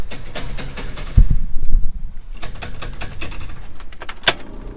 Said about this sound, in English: You hear that? That's the vacuum pump.